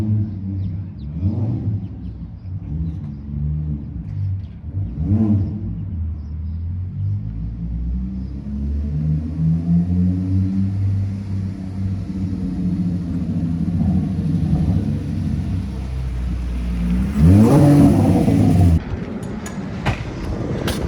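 A yellow 2016 Porsche 981 Cayman GT4's engine rumbles low and steady as it approaches and pulls up close, growing louder near the end before settling.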